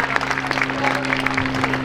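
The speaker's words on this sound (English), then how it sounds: "a nice big round of applause for our first heat of today's competition." Crowd applause at a Scottish Highland Games pipe band competition, a steady patter of clapping from a moderately distant audience with a sustained drone-like tone underneath, lasting under two seconds.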